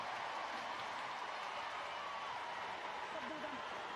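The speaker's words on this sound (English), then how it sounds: "And you can hear the crowd going right now." A crowd cheers at a USA vs Fiji women's rugby match, a steady, distant stadium roar heard beneath a commentator's voice.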